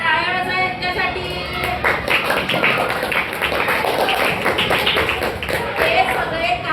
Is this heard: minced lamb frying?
no